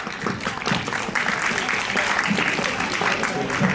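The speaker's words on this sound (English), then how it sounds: "Everyone, please give a big round of applause to Sir." An audience at a conference session on sustainable development goals with a nursing-academics panel claps in steady, dense applause throughout, fairly close, with some voices mixed in.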